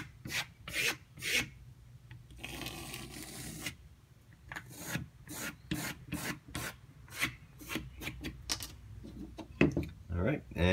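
A knife blade stropped by hand on a homemade strop, giving a series of short, dry rubbing strokes in a steady rhythm, close and moderately loud, with a longer continuous rasp partway through and a voice talking between strokes.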